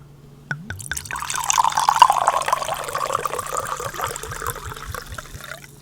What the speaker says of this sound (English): Stop for the pour.